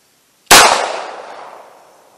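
A single sharp, loud .380 Federal Punch pistol shot fires over a chronograph, a sudden crack followed by a long, fading echo tail, with no talking.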